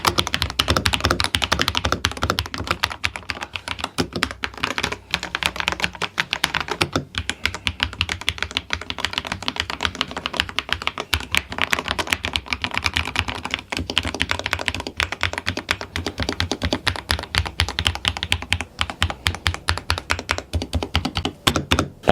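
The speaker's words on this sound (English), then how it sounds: "red linear switches sound." Steady typing on a Tecware Phantom+ RGB mechanical keyboard with red linear switches, recorded with the mic right beside it. A dense, fast run of crisp clacks and thocks goes on for over twenty seconds with no talk.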